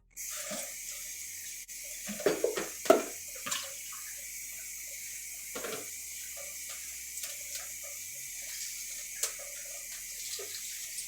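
Red potatoes rinsed under running water from a kitchen tap, a steady hiss of flow with intermittent splashes and knocks as the potatoes are handled, close and moderately loud.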